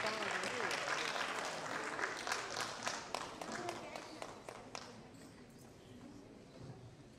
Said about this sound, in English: One more round of applause, please, everybody.